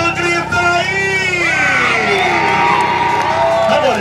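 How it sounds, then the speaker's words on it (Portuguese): A crowd at a Honda quad bike stunt show cheers, whoops and yells loudly and without a break during a wheelie, with high shouts rising and falling above the din. "Solta o grito aí!"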